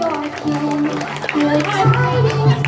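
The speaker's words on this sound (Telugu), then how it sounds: "చేతులు ఉన్న వాళ్ళందరూ చప్పట్లు కొట్టాలి." An audience at a Salvation Army Christmas celebration clapping, a dense patter of many hands mixed with chatter and children's voices, fairly loud and close throughout.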